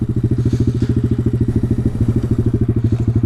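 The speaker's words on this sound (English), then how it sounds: "My bike sounds so freaking bad right now." A pit bike engine runs rough at close range, loud, with a fast, uneven pulsing thump and a clattering rumble.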